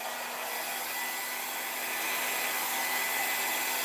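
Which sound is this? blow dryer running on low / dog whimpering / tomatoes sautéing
blow dryer running on low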